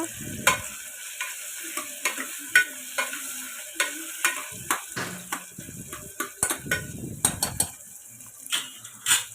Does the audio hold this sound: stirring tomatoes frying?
yes